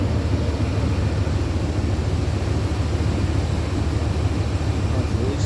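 The engine of a 1987 Chevrolet Monte Carlo SS idles smoothly as a steady, even low rumble with broad noise and no knocks or irregular sounds.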